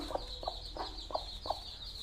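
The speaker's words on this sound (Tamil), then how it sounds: "கோழி நல்லா தாய்மையுள்ள கோழி." A broody Yakut hen sits on a nest of hatching eggs and gives five soft, evenly spaced clucks. A steady background hiss runs underneath, with no voices.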